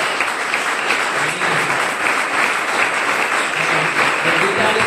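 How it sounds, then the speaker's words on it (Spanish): Congregation applause during a Spanish-language church sermon, a steady broadband wash of clapping that fills the whole stretch at a fairly loud, even level, with faint voices mixed underneath. "dándole un fuerte aplauso a nuestro Señor Jesús"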